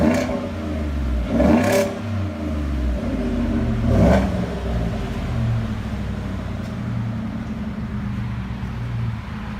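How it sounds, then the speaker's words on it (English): A 2018 Ford F-150 4x4 with a 5.0 Coyote V8 and aftermarket exhaust revs loudly twice in quick succession, then settles into a deep, rumbling idle up close. "It's the F-150 2018. I'll let you hear it in a minute."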